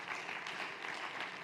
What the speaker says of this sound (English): Let me hear a round of applause if you don't have that happened to you before